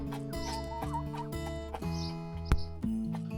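Chickens cluck in a garden beside a polytunnel in early April, a few close, melodic clucks and soft calls repeating over a few seconds, with no talking.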